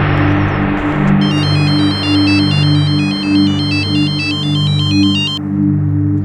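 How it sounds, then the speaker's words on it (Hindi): A telephone rings with a bright, melodic electronic ringtone, loud and steady for several seconds over a low indoor hum, with no one speaking. "अम्मी वो मीनाज के अनाथ आश्रम से फोन आया था"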